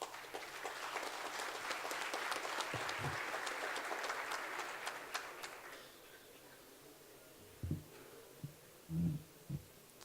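An audience at a legal seminar in São José do Rio Preto breaks into sustained applause for a speaker. The dense clapping holds steady for about six seconds, then dies away, leaving a quiet room with a few soft knocks.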